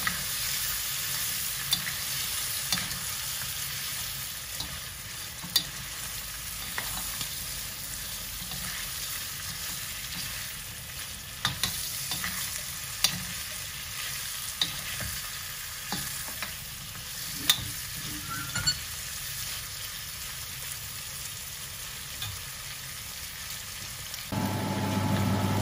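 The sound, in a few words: sautéing pork liver with lamb belly for caldereta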